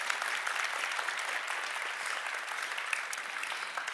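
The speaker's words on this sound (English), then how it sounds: "Let's give India Mahdavi a big applause." Audience members at a talk by designer India Mahdavi clap warmly, a dense continuous patter of many hands at steady volume with no voices on top.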